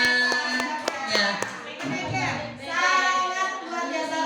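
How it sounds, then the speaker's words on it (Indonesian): Audience applause for a teacher at a school dissemination event on positive school culture, steady clapping that swells after the first two seconds and blends with background music and voices. "Tepuk tangan buat Ibu Erma ya."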